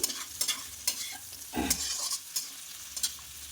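Frying in a pan while cooking cream pasta: close stirring scrapes and clanks of a utensil against the pan over a light, steady sizzle, with no talking.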